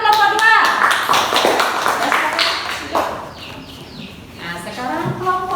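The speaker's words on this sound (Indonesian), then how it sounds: "beri tepuk tangan untuk kelompok" Classroom applause for a group of pupils in a primary school lesson, a burst of clapping from many children that swells and fades over several seconds, with voices mixed in.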